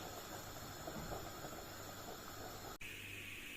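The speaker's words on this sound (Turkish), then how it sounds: "Mısırlar iyicene böyle çatlayana kadar, e, şişene kadar kaynatacağız arkadaşlar" Steady hissing, bubbling roar of a pot at a rolling boil, continuous and fairly close, with a brief dip near the end.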